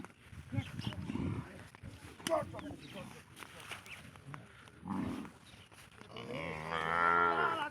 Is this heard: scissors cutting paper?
no